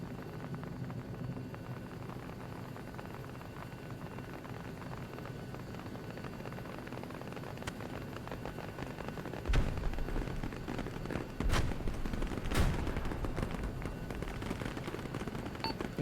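Attack helicopter making a rocket run on infantry in a JTAC training exercise, with a steady rotor and engine drone and a few sharp bursts of rocket fire and blasts in the second half.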